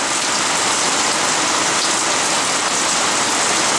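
Steady, loud rain falls on a humid Sunday morning in a neighborhood, a constant dense hiss of drops on surfaces with no breaks.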